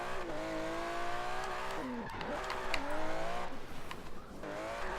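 An Aston Martin Vantage GT12 engine in Forza Horizon 3 revs and drones continuously, pitch rising and dipping as it shifts, with brief tire squeals mixed in.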